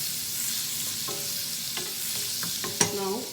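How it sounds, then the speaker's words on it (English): Butter sizzles softly in a pan with whole cardamom pods, cloves and a piece of cinnamon stick, a quiet steady fry with a few light clinks of stirring and a sharper knock near the end. "Butter is sizzling now. We are adding whole garam masala."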